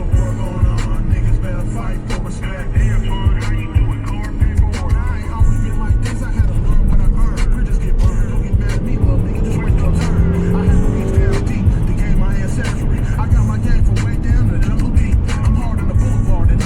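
A Mazda 5 with a six-speed manual gearbox drones loudly from inside the cabin, its engine held and run out through the gears with a continuous road roar and no pauses.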